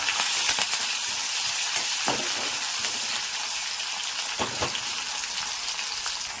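Mustard seeds, onion and curry leaves sizzle and crackle in hot tempering oil for a village-style avarekalu sambar, a steady close frying hiss with a few sharper pops.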